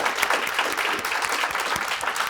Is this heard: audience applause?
yes